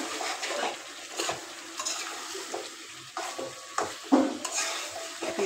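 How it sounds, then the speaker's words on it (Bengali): Meat being stirred and fried down in a pan, with intermittent scraping strokes over a steady low sizzle, close and moderately loud, no talking. "একদম সুন্দর করে কষাই নিচ্ছি"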